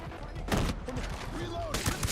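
Dense automatic gunfire in the video game Ghost Recon Breakpoint, with loud bursts and overlapping shots under game voices talking.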